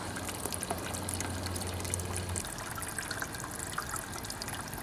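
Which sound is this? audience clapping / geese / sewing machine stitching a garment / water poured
water poured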